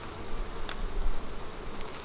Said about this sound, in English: I've got some aggressive bees coming after me here.